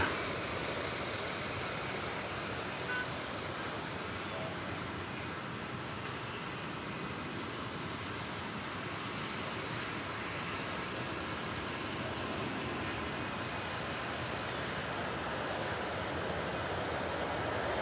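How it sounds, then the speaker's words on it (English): American Airlines Airbus A321 landing at DFW Airport from Orlando, with a continuous broad jet engine roar that stays steady and fairly distant throughout. "American Flight 2677, an Airbus A321 that just touched down from Orlando, Florida."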